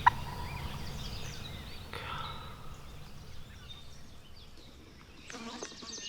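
A wild turkey longbeard in a Wisconsin field gobbles in short rattling bursts, fairly distant and faint against quiet outdoor background, with a soft voice murmuring at times.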